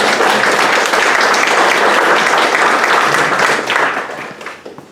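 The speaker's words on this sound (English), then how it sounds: "Again, round of applause for" A room of attendees at a councilman's listening session breaks into a loud, sustained round of applause, dense clapping holding steady before thinning toward the end.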